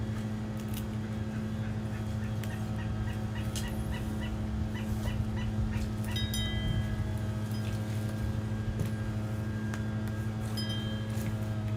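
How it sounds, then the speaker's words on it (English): Scattered bird calls, chirps and short repeated notes, over a steady low hum of outdoor background noise, fairly faint and distant. "I don't know what kind of bird I'm hearing"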